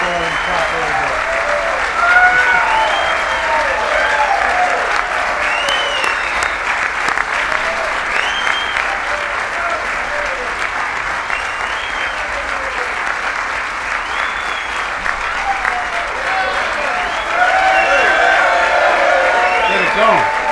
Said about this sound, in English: We're going to clap a little bit.